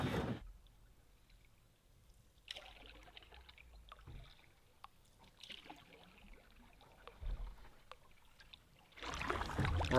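A canoe is paddled across Willow Island Lake, with quiet dips and soft water swishes over a near-silent calm, and louder bumps and rustles near the start and the end.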